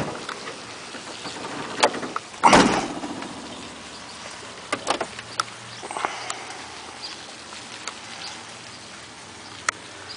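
The trunk lid of a 1957 Ford Thunderbird convertible shuts with a single solid thump, followed by quiet, scattered small clicks and knocks in an otherwise hushed space.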